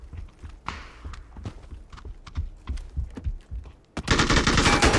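MG3 machine gun fire in the video game PUBG, a string of rapid sharp shots at moderate distance, followed by a sudden loud, sustained roar of closer noise.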